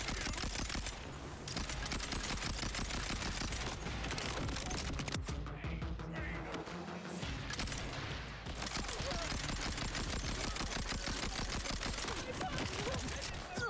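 Full-auto gunfire from Rowan's Charge in Borderlands 4, a dense, rapid, continuous stream of shots that nearly fills the clip, with a short thinner stretch in the middle before the firing resumes at full intensity.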